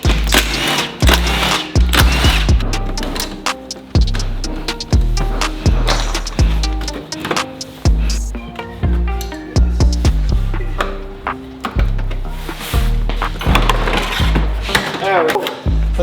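Clips and fasteners knock and pop as a front bumper is pulled off a 2022 Subaru WRX, a close, busy series of sharp plastic clacks and thuds with brief pauses in between.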